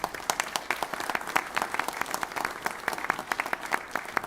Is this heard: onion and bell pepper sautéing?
no